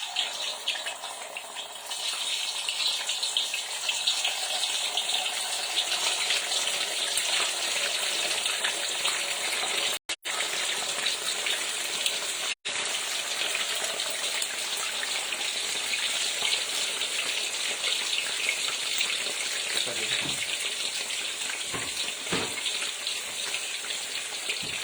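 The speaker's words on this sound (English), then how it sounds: "you're already frying, so you could just put the potatoes in here like I'm putting this" Potatoes go into hot oil in a pan of spinach dish being cooked, giving a loud, steady hiss and crackle of frying that runs continuously for about twenty-five seconds, with no talking.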